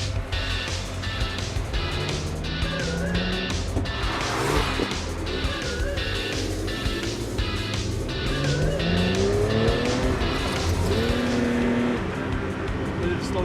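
A Ford GT40 supercar drives and accelerates, its engine roaring with rising and falling revs as it pulls through the gears, loud and close from inside, with people talking over it.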